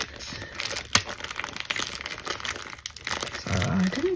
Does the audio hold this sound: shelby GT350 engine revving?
no